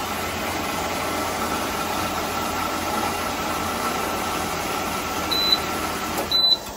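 A pump runs steadily after a refill with all air bled out, giving a constant mechanical hum with a faint tonal whine; a couple of brief high beeps sound near the end.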